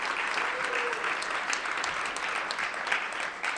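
Audience at a Brooklyn arts council regrant ceremony claps for honorees, a sustained wash of applause from many hands, fairly even throughout with a few sharper claps near the end.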